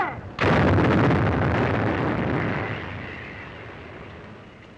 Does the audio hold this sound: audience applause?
no